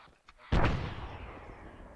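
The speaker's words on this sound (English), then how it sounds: "Oh, they're shooting rockets." A single loud rocket launch blasts close by and rumbles away into a long fading roar, after a faint earlier pop.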